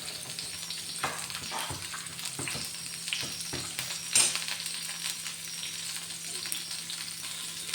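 Okra and mixed vegetables, including carrot, potato and pumpkin, sautéing in a pan for Tamil Nadu sambar, with a steady sizzle, occasional stirring scrapes and one sharp clink, and no talking.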